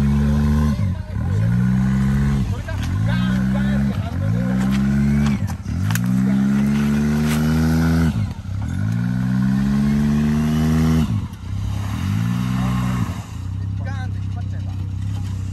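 A jet ski engine revs repeatedly in rising, whining bursts, each climbing in pitch then dropping off, close and loud, with people talking over it.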